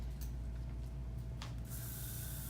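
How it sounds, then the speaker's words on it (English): High hold hairspray released from an aerosol can in a salon setting, a steady hiss starting partway through and continuing to the end over a low background hum. "That's the name of the high hold hairspray."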